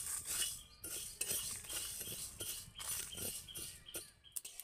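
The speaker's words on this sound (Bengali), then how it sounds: "সর্ষেটা ফাটা শুরু করে দিয়েছে" Mustard seeds and whole spices crackle and pop while being dry-roasted in a wok, a close run of sharp, irregular ticks and light scraping stirs with no talk.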